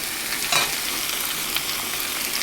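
Taro stolons fry in a pan with dried fish and onion, giving a loud, dense, continuous sizzle close up, with faint stirring underneath.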